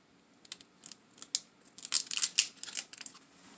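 Plastic packaging is peeled off cold beef short ribs in a string of close, crisp crinkling and tearing bursts that cluster and grow louder toward the middle.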